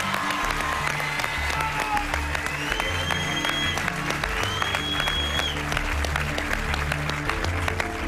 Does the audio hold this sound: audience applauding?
yes